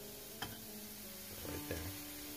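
An apple searing in a pan, giving a faint, low sizzle with a couple of soft scrapes and stirring touches, no talking.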